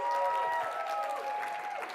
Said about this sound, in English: Let's keep that round of applause going, can we?